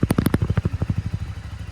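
A new Royal Enfield Classic 650 engine just started, a loud close rapid thumping idle that is sharpest at first and then settles into a steady, softer beat.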